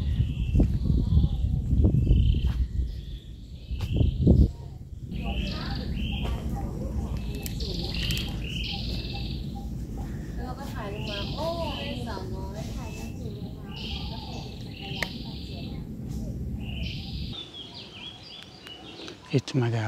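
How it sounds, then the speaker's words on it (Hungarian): Birds sing in a hilltop park in Bangkok, chirps and short phrases repeating over outdoor ambience, with people talking in the opening seconds. "és hallgatni madarakat."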